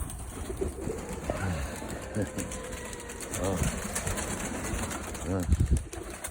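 Pigeons cooing in a loft holding about twenty pairs of tumbler birds, soft repeated coos near and far with someone talking over them throughout.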